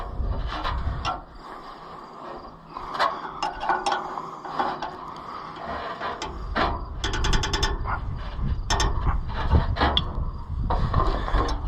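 Nuts being tightened on a tractor adapter during an Oliver 500 repair, with repeated ratcheting clicks and metallic mechanical rattling over steady workshop background noise, close and moderately loud throughout.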